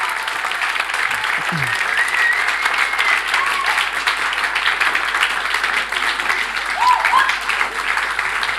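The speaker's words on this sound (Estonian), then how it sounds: "Nii et üks aplaus veel" Seminar audience giving a sustained round of applause, a dense, even wash of many hands clapping indoors that continues steadily throughout.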